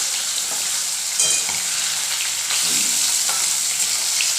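King fish pieces fry steadily in hot oil for a biryani, a continuous bright sizzle with occasional stirring clatter from turning the fish, close and loud with no talking.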